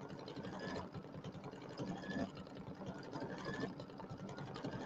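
An embroidery machine sews a large satin stitch around a pumpkin design for a bench pillow, giving a steady, fast mechanical whirring and needle chatter that runs continuously at moderate loudness with no voices.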